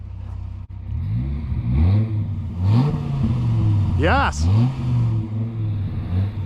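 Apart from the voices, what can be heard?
sports car engine revving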